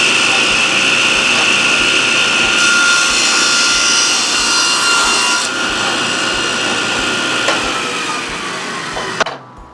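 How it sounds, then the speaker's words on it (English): Table saw ripping a groove through the center of a piece of wood for a sanding block, a loud steady whine and rasp of blade through timber holding for nearly ten seconds before cutting off abruptly. "I'm going to rip a groove or cut a groove through the center of the piece of wood"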